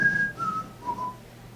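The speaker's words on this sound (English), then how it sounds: "My grandpa's whistle fills the kitchen." A grandpa whistles in a kitchen, a clear, pure tone that slides downward through a few sustained pitches, close and fairly soft, with nothing else heard.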